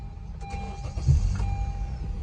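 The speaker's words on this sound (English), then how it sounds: "we can start the car by first key," A 2013 Honda Accord's engine is started with the key, a brief cranking that catches into a low, steady idle rumble, heard close inside the car without talk.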